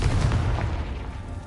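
A Confringo fire spell bursts in Hogwarts Legacy, a heavy low boom that hits at the start and rumbles down over a second or so, close and alone.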